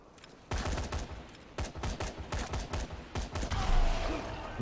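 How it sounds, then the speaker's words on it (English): Video game gunfire and explosions from Dead Rising 3, a rapid series of sharp, loud bursts in an irregular rhythm, ending with a heavier boom. "Fucking explosions!"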